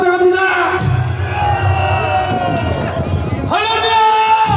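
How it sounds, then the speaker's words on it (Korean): A crowd at a rally cheers, whoops and shouts in a loud burst, swelling to a dense roar and then fading briefly before another wave of cheering rises at the end. "큰 박수 부탁합니다"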